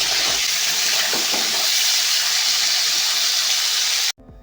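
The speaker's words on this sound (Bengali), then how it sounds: "মূলো, গাজর এবং শিম একসঙ্গে ভেজে নিতে হবে" Steady, loud sizzling of radish, carrot and beans frying in a pan, continuous hiss with faint stirring clinks, cutting off abruptly near the end.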